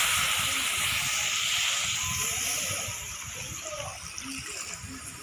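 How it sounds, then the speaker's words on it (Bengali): Hot water poured into a pot of braising pork, a broad steady hiss and gush of liquid that eases off partway through, with faint kitchen clatter beneath. "এবার গরম জল দিয়ে দেবো"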